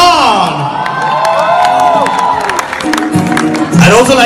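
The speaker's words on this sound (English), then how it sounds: "round of applause for the very, very good looking, the dapper, and yes, Bollywood's most desirable. Give it up for Salman Khan." A Bollywood event crowd cheers, whoops and claps for Salman Khan, a loud continuous wave of shouting and applause filling the space, with high excited screams throughout.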